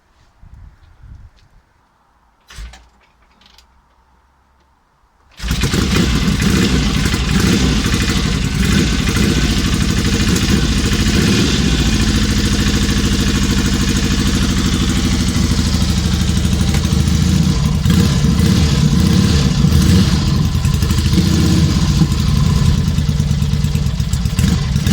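A 1963 Norton SS650 motorcycle cranks with a few brief kicks and pauses, then fires and settles into a loud, close, steady idle that keeps running unbroken for about twenty seconds.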